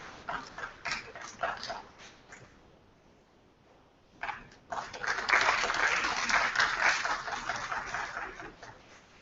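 Audience applause at an international multi-track science and engineering conference, honouring a workshop speaker: scattered clapping that pauses briefly, then swells into a fuller, sustained round.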